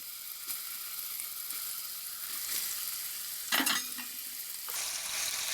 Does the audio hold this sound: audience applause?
no